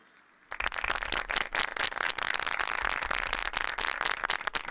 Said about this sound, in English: A huge round of applause for the children.